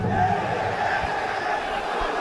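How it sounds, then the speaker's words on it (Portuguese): Guarani football fans protest in a stadium during a Brasileirão Série C match against Ypiranga: a steady crowd roar of chanting and shouting fills the stands from a distance. "Ó a torcida do Guarani"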